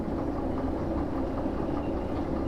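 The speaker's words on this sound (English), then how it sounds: "on the independent I get to really slow this train down, or the locomotive down" A locomotive in the train simulator game Derail Valley runs steadily as it is braked, giving a continuous low rumble with faint rail clatter. The sound stays close and even throughout, with no talk.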